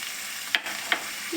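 Okra and grated coconut stir-fried in a pan: a short burst of soft sizzling with two quick spatula scrapes against the pan.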